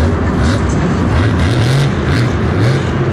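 Grave Digger monster truck engine at a Monster Jam arena show in Houston, Texas, revving loud and close in a continuous throttle rhythm, the pitch repeatedly rising and falling over steady crowd and arena noise.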